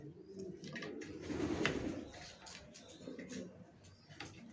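Racer pigeon squabs cooing softly in a loft, a few low close coos with faint background noise and some soft rustling.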